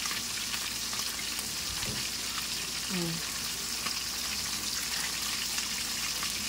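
Soft, steady sizzling of fish frying in oil, quiet and continuous, with a faint clink partway through.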